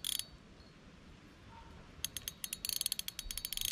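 Shimano Aero Technium MGS 14000 fishing reel spinning freely with its mechanism loosened, a faint quiet whir followed by a quick series of crisp clicking ticks that speed up toward the end.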